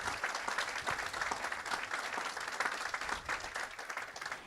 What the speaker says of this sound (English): Can we get some more rounds of applause for our students?